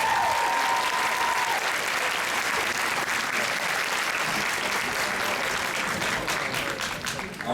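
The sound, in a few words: audience applause at D23 Expo panel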